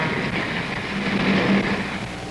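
M&StL freight train number 445, a 1949 Minneapolis & St. Louis Railway run, rolls under a bridge into the Peoria yard after descending Kickapoo Hill, a steady, fairly close rumble of wheels and cars with a faint low tonal hum and no voices.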